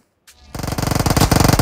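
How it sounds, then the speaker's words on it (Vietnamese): Rapid automatic gunfire in PUBG Mobile, a loud close burst of evenly spaced shots starting after a brief click and continuing steadily to the end. "Có tiếng súng."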